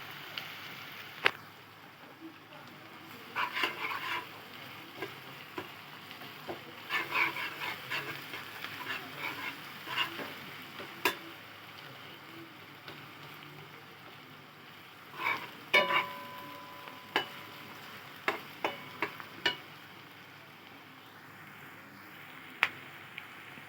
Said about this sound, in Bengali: পেঁয়াজটা ভাজা ভাজা হতে থাক